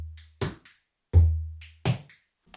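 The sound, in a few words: electronic drums with Echo Bode phaser effect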